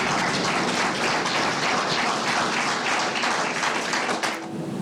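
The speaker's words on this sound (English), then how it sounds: "The applause that happened, does that surprise you?" Applause breaks out in a courtroom after three life sentences are handed down, a steady dense patter of many hands clapping for several seconds before thinning out at the end.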